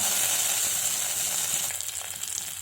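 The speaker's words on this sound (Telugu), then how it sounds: "స్పూన్ ఆయిల్ వేసుకుని మనం పచ్చిమిరపకాయలు ముక్కలుగా కట్ చేసుకుని వేయించుకోవాలి" Chopped green chillies frying in a spoonful of hot oil, a steady bright sizzle and crackle that continues throughout and eases slightly toward the end, with no voices.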